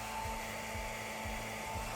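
A hair dryer heats the screen of a Samsung Galaxy J4 during a screen repair, a steady motor whir and airflow drone with a rhythmic low pulsing, continuous and close, no speech.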